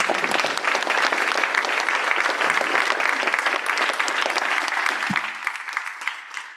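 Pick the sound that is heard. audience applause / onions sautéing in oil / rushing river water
audience applause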